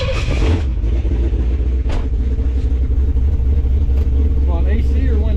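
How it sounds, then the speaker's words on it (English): A fuel-injected 400 cubic inch car engine rumbles and pulls hard under acceleration, heard from inside the car with a deep steady drone and people talking over it. "let's go see what 400 cubic inches of fuel injection power can do now"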